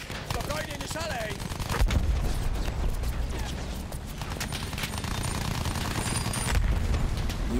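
Battlefield 1 combat fills the scene with dense gunfire and explosions: continuous rattling shots and heavy booms, loud and sustained, with a voice talking now and then over the din.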